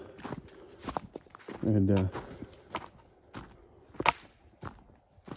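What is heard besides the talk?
footsteps walking through the woods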